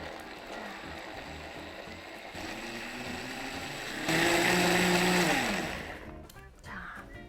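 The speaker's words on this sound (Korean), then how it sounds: "믹서기에다가 갈아보도록 하겠습니다." Motor whir builds, then a blender roars loudly as it grinds vegetables and tomatoes into juice, its pitch sliding down before it cuts off, followed by a few clattering clicks.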